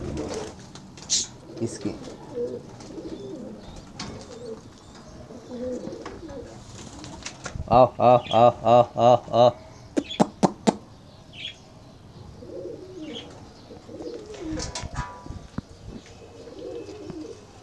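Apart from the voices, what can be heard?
pigeons cooing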